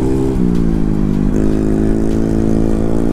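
A motorcycle fitted with an aftermarket exhaust revs up close by outdoors, its throaty engine note climbing in stepped bursts of throttle over about three seconds.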